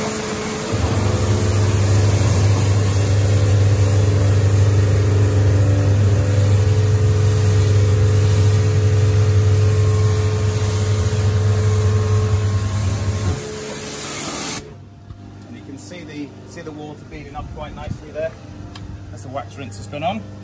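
Hot pressure washer with its burner on, spraying hot wax rinse onto a vehicle: a loud, steady droning hiss with a low motor hum that runs continuously for about thirteen seconds, then cuts off, leaving quieter residual hum and faint clatter.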